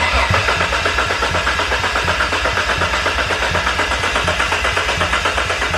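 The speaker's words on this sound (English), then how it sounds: "we're just going to turn the engine over and hopefully build up some oil pressure" A Mitsubishi Pajero engine with the ignition disconnected cranks over continuously on the starter, a loud, steady rhythmic churning without firing that runs the whole time with no talk.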